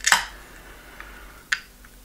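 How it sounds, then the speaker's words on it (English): A can of Brew York Mash Bandicoot beer is cracked open with one sharp, close snap at the start. A few faint ticks follow in an otherwise quiet room. "Let's crack it open rather than listening to me."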